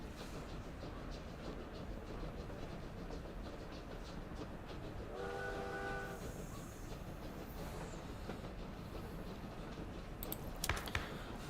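A video game train rumbles steadily throughout, with a brief horn blast midway and a couple of sharp clanks near the end.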